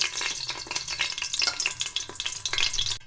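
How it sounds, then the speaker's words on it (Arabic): Peppers frying in olive oil in a couscoussier for Tunisian octopus couscous, a close steady sizzle with crackling pops and bursts of stirring. "في الكسكسيير درت شويه زيت الزيتون وغادي ندوز نقلي الفلفل"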